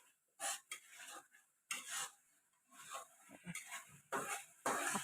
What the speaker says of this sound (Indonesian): Aku aduk terus sampai bumbunya matang.